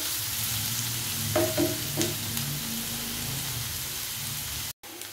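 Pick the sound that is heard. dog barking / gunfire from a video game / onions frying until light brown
onions frying until light brown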